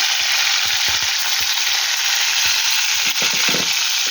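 Loud, continuous sizzling as a whole cut tomato hits hot oil with frying black cumin, a dense crackling hiss punctuated by irregular pops and spatters, close up and without voices.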